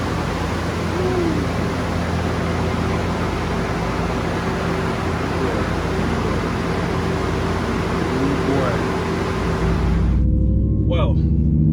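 A turbocharged car driving on the road after a dyno session with the boost turned up, producing a constant loud broadband road and cabin rumble that drops away abruptly near the end.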